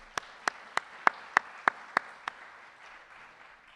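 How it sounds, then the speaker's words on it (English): Sparse applause at a philanthropy awards ceremony: eight distinct, evenly spaced claps ring out at a steady rhythm, then fade into a faint murmur of room sound. "round of applause"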